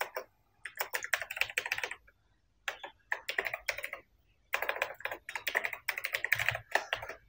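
Rapid clatter of a computer keyboard as an ID card number is entered into an online application form; quick bursts of keystrokes separated by short pauses, close and clear with no talking.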